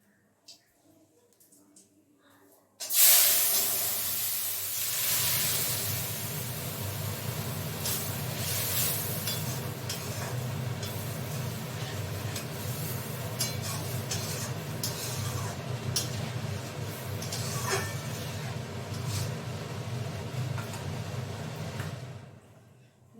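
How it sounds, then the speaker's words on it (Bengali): Dal tempering hits hot oil in a wok with an abrupt, loud sizzle that holds steady and close for about twenty seconds before cutting off, with a voice faintly present underneath. "কড়াটা গরম হলে তেল দিয়ে ডাল সোমবারা দিয়ে দেবো"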